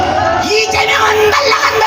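Crowd at a political rally in Korea yells and cheers loudly together, a dense sustained roar of many voices with whoops rising over it throughout.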